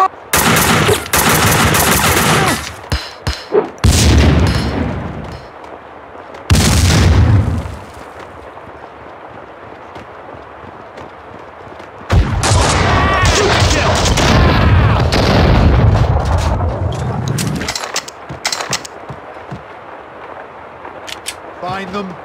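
Gunfire and explosions from the video game Max Payne 2 come in loud, dense bursts separated by short quieter gaps, with voices heard between the volleys.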